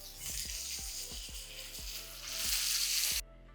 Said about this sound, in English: Let's flip it over and finish cooking for 3 minutes on the other side.